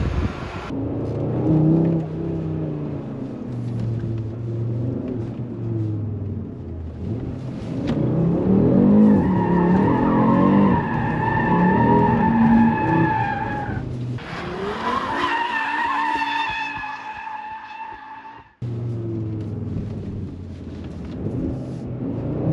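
A 2022 Audi RS3 in drift mode slides with loud, sustained tire squeal over a revving engine, the screech rising and wavering for long stretches before cutting off and resuming.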